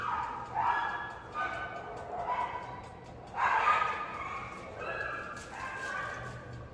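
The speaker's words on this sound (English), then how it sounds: "Some dogs are fighting outside." Dogs bark, yip and whimper in bursts at a distance outdoors, the yelps rising and falling in an agitated scuffle.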